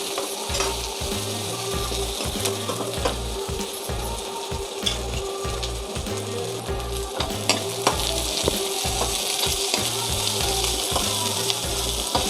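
Beans and other ingredients frying in a pan for a Chhattisgarhi rice dish, a steady close sizzle with repeated stirring scrapes throughout, no talk.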